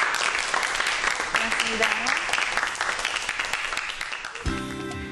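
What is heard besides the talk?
audience applause for the lecturer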